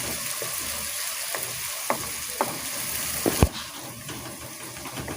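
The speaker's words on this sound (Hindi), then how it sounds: "प्याज को अच्छे से कर लेंगे फ्राई।" Chopped onions fry steadily in a hot pan, a dense continuous sizzle with a few soft stirring clicks and scrapes, close and moderately loud, with no talking.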